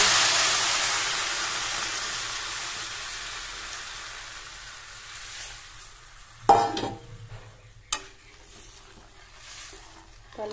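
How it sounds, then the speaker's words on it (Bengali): Water poured into a pan of sautéed spiced vegetables sets off a loud steaming hiss that slowly fades, followed by a few sharp clanks of a spoon or lid against the pan. "এবার আমি জল অ্যাড করে দিচ্ছি।"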